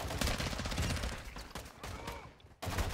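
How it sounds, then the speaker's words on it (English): Rapid bursts of gunfire from the DMZ video game, loud and dense with repeated shots rolling over each other, briefly dropping out near the end before resuming. "He's still shooting at me."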